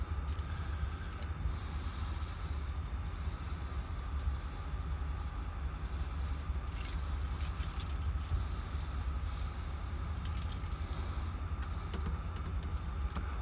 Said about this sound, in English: Wasn't my intention for you to watch me fumble with keys.